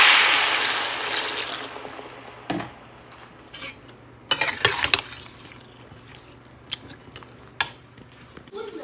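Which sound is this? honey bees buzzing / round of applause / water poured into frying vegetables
water poured into frying vegetables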